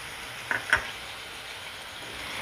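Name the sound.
tomato puree added to frying onion paste masala in pan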